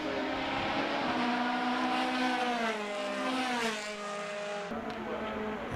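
Formula BOSS race cars sweep down the main straight at Mondello, a loud sustained engine drone that rises and shifts in pitch as the cars pass close by, with no talk over it.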